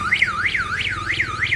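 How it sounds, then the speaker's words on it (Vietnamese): An anti-theft security camera's alarm siren wails in a rapid repeating rising-and-falling sweep, steady and loud, with no talking. "lập tức nó sẽ báo động, nó còi hú lên như này"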